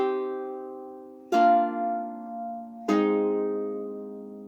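Three chords strummed on a seven-string Anglo Saxon lyre, each one a bright plucked attack that rings out and slowly fades, played clearly and alone with no talking.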